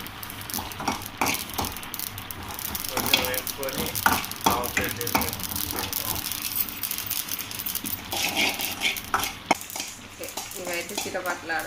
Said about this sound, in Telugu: ఫ్రెండ్స్ పచ్చ చేయడానికి నువ్వులు కూడా వేడి చేసుకుంటాం